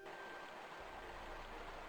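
Waterfall in Tomb Raider 1 rushes as a quiet, steady broadband wash, faint and continuous throughout, alone without voices.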